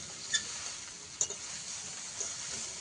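Prawns and spices frying in a pan with a faint, steady sizzle, broken by a few brief stirring scrapes and clicks.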